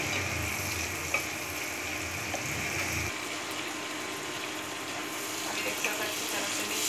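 Salted prawns fry lightly in a pan for prawn fried rice, giving a continuous close sizzle and bubbling hiss with a heavier, fuller sound that thins out partway through while the frying carries on.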